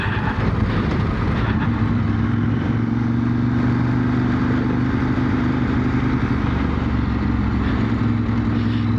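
A Ducati 916 motorcycle engine drones steadily while riding in second gear at about 3,000 RPM and 20-30 mph. It is loud and continuous with wind rush, heard from the rider's position.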